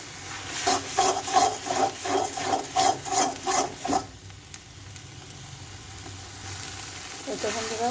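Spinach ghonto stirred and fried in a pan makes rhythmic scraping strokes, about a dozen close regular rubs over a soft sizzle, then quieter frying with a faint scrape near the end.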